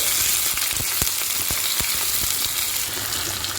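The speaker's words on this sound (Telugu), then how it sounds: "ముందుగా ఉడికించి పెట్టుకున్నాం కదా ఈ దొండకాయలను తీసి ఇందులో వేసుకోవాలి" Ivy gourds frying in oil with cumin, carom seeds and curry leaves give a loud, dense sizzle with sharp spitting pops scattered through it, close and continuous, no talk.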